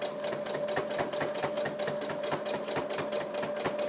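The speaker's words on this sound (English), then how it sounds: "I'm just going to continuously push the fabric in a curved motion toward the needle." An electric sewing machine stitches fabric along a curved seam for a memory bear head, with a fast, steady mechanical whirr and rhythmic needle pulses, close and continuous, with no talking.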